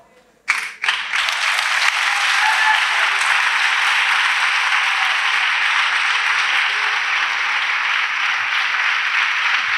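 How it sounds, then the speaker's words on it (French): A church congregation bursts into sustained applause as a clap offering to Jesus, many hands clapping together in a dense, loud wash that stays steady for several seconds. "Clap offering to Jesus."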